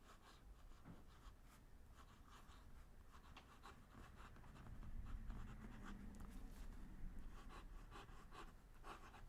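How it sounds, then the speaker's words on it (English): Fountain pen nib with a near-stub italic grind scratching across cheap paper in cursive handwriting, a close, continuous dry scribing with short stroke bursts and faint rustle throughout. "Great scribing noise."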